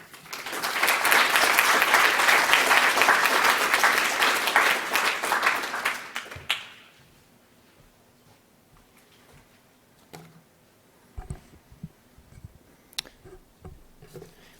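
Warm audience applause at a poetry reading, loud and steady for about six seconds before fading out, followed by quiet room noise with a few scattered knocks and shuffles.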